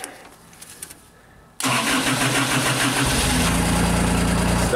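A JLG scissor lift engine with its crank sensor unplugged cranks and catches, running roughly at a loud, steady level after a quiet stretch, then deepening into a heavier rumble as it falters toward a stall.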